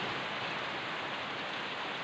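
Heavy rain pours down steadily in a windy storm, a dense, constant hiss that stays loud and unbroken throughout, with no voices.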